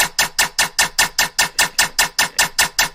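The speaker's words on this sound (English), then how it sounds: "We had a comb filter on it." A synth in Serum run through a comb filter with resonance, drive and damping, giving a bright, hollow, metallic tone that pulses in about a dozen evenly spaced, sidechain-like swells, loud and alone.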